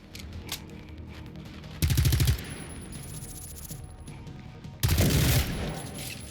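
Gunfire in the survival shooter Generation Zero: two loud bursts of shots about three seconds apart, each a short rapid volley standing out over a steady background.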